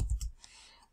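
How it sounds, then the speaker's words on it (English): Two quick computer keyboard keypresses, shift then enter, click sharply close by, followed by faint room hiss. "on my keyboard, I'm gonna press shift and enter"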